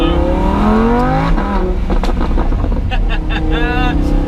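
A Lamborghini Huracan engine roars close and loud on mountain roads, its pitch climbing through rising revs with a shift partway before pulling again, accompanied by some wind and road noise.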